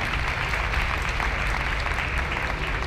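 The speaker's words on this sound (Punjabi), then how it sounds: "ਇੱਕ ਵਾਰੀ ਜ਼ੋਰਦਾਰ ਤਾੜੀਆਂ" Steady audience applause at a televised Punjabi interview event honoring Sumitra Mahajan, a dense unbroken wash of clapping at moderate level throughout, with no voices standing out.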